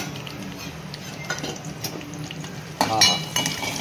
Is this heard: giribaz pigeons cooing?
no